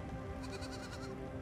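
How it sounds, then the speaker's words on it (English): A sheep or lamb in the video game Aer bleats in a single short, wavering call over a soft ambient game background. "Oh my gosh, a sheep or a lamb."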